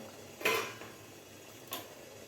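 A metal lid is lifted off a pot of coriander-gram flour rolls (kothimbir vadi) after 10–12 minutes of steaming, giving two brief clanks, one near the start and a fainter one a second later, against a quiet room.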